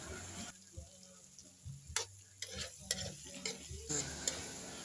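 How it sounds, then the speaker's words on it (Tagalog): Butter, onion and hotdog sauté in a pan for a seafood dish: a soft sizzle with quick spatula scrapes and taps against the pan, close but faint, with no speech. "Gisa lang siya muna, guys."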